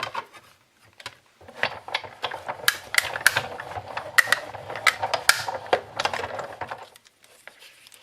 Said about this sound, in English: I can run them all through my die cutting machine all at once